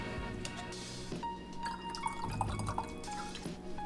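Gold tequila poured from a bottle into a glass of old-fashioned supermarket lemonade, a close, steady trickle and splash of liquid lasting a few seconds.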